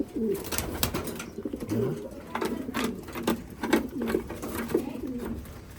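Racing pigeons, including a blue bar, cooing in a loft in a steady series of soft, rolling coos close by.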